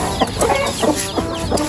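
Several hens cluck and murmur close by in quick, overlapping bursts while feeding, a busy flock chattering without pause.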